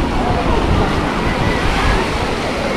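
Sea surf washing onto a beach at Lazarevskoye, Sochi, a steady broadband roar of breaking waves close by with some wind, continuous and fairly loud throughout.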